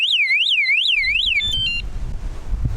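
A bike anti-theft alarm, triggered by handling the bicycle, lets out a loud warbling electronic whoop that rises and falls in several quick cycles, then a few stepped beeps, before giving way to rustling handling and wind noise outdoors.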